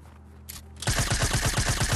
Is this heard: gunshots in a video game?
yes